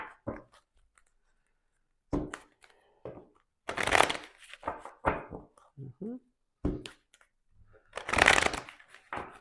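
Playing cards being shuffled and riffled in several short bursts, close by, with quiet pauses and soft handling noises between them.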